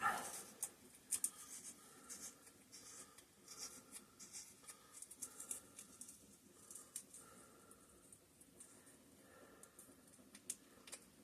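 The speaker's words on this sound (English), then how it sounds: "Get that small piece of sandpaper I just had to clean up the gasket surfaces" Small piece of sandpaper scrubbing the gasket surfaces of a 5hp Briggs and Stratton engine with gear reduction: faint, steady rubbing and scratching with scattered ticks, close by and quiet, no voices.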